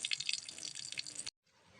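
Dirty water from washed red sorghum grain splashes and trickles steadily for about a second, then cuts off abruptly, followed by a faint, quieter run of dripping water.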